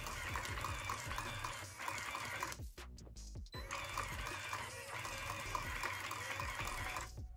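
A YouPai Max V automatic poker card shuffler runs in random mode with a steady mechanical whir and rapid riffling clatter, briefly stopping midway before resuming, close and continuous with no voices.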